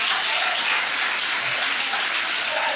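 A crowd applauding steadily at a reception ceremony for new baccalaureate graduates, a dense continuous clatter of many hands that stays loud throughout with no clear speech.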